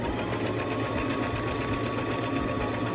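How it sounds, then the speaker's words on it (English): A sewing machine stitches a flannel shirt being cropped, its rapid motor whir running continuously and close for several seconds without pause. "And then I just sew on down like that."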